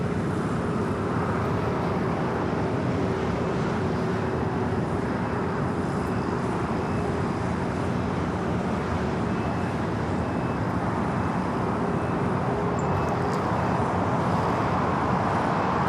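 Airbus A380 airliner at Los Angeles International Airport, a steady broad jet roar holding at constant loudness throughout with distant road traffic blending in, no voices.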